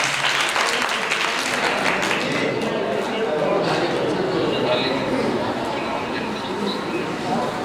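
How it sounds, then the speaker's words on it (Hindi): Loud, sustained applause from an audience at a Hindi-language documentary launch ceremony, dense clapping filling the whole stretch with some crowd chatter beneath it. "एक बार जोरदार ताली बजा दें"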